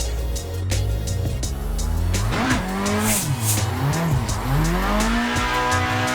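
A racing game car slides after a pulled e-brake, its tires squealing in sweeping, wavering pitches over the loud drone of the engine, continuing for several seconds.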